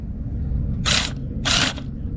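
Priming pump strokes on a pair of Ofna Twin Titan nitro RC engines, dual 26-size motors making 5.2 horsepower combined: two short, loud mechanical bursts over a steady low rumble.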